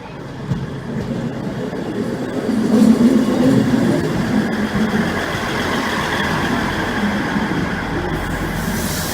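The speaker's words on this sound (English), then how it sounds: "this will be a terminating Northern train service from Sheffield, one of the old ScotRail units" Old ex-ScotRail diesel unit working a terminating Northern service from Sheffield, rumbling steadily through the station at moderate distance, swelling a little midway, with no talk over it.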